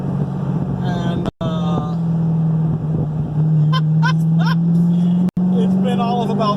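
A 2010 Chevrolet Corvette Z06 running newly installed mufflers puts out a steady, low exhaust drone, heard close and loud under someone talking.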